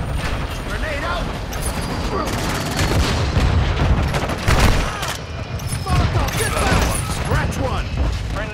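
Dense gunfire bursts and a grenade blast ring out in a frantic Call of Duty-style Shipment map match, with constant broadband crackle, a louder thump near the middle, and game voice callouts layered over the shooting throughout.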